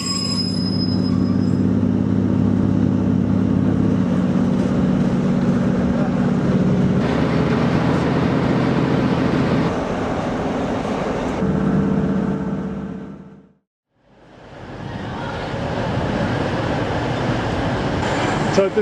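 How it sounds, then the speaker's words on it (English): An East Midlands Railway train reverses out of a station platform, a loud, steady rumble of engine and wheels close by with some squealing, briefly dropping away before resuming, with faint voices underneath. "It's now reversing back out of platform 8A on its long journey to Norwich"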